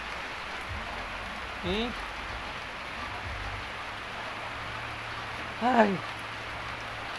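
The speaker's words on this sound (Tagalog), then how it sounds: "You do really like watching outside, right? But it's raining." Steady rain falls outside as an even hiss of drops that runs throughout. Brief exclamations from a voice come through twice over it.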